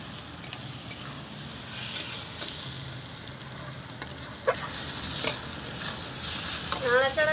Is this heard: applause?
no